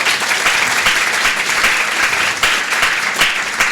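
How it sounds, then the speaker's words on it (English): A room full of people applauding an honored guest at a women's foundation event, dense continuous clapping that stays loud and even for the whole stretch. "so please give him a round of applause."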